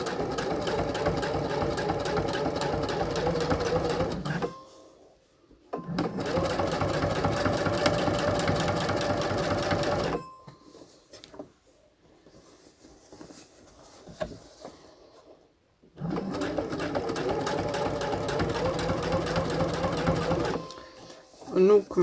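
A sewing machine stitching the underwire channel on a bikini runs in three steady, close bursts of rapid mechanical stitching, separated by quiet pauses.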